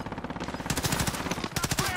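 Automatic gunfire in the video game Call of Duty: Modern Warfare, rapid rattling bursts in quick succession, loud and close over a two-second stretch.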